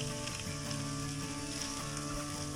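Thick lingcod fillets frying in a pan, a steady close sizzle holding at an even level throughout, with a faint tonal hum beneath it.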